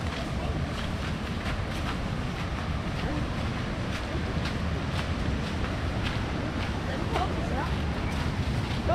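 Stream water rushing steadily through a forest, a continuous broadband wash with some wind noise, close and fairly loud, without pause.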